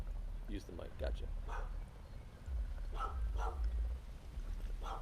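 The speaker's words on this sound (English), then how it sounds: "That's the neighbor's dog." A neighbor's dog barks several times in short bursts from a little distance, mixed under people talking nearby in a home kitchen setting.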